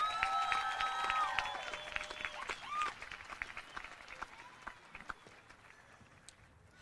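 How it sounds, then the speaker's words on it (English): Audience applause at a 2018 high school graduation ceremony, fading steadily from a moderate start to scattered claps, with a few voices and a squeak-like tone over the clapping. "We don't have to clap each time."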